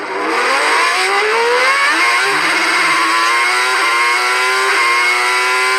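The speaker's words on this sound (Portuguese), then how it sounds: "motor V12 ia fazer um barulho gigantesco" A Formula 1 V12 engine screams at high revs, a loud, dense and continuous roar with rising and falling pitch sweeps as the car passes, with no talking.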